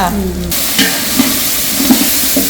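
Ginger garlic paste sizzling in a hot pan after a brief pause, with a steady hiss broken by a few soft stirring scrapes, close and without talk.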